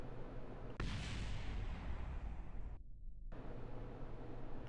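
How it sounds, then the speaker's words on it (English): A sudden booming burst in Kerbal Space Program, a rocket explosion that jumps in loudly and dissolves into a long roaring rumble of noise, briefly cutting out before the roar resumes. "Celebratory explosion."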